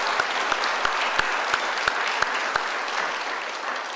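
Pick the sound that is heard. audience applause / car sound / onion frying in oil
audience applause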